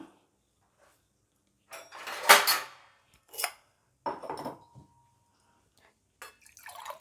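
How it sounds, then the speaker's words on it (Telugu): Water is poured into a pot of spiced rice for tomato rice, a short splashing rush with nearby kitchen clatter and a few brief knocks before and after, in an otherwise quiet kitchen. "ఇప్పుడు మనం దీంట్లో వాటర్ యాడ్ చేసుకునేద్దాం"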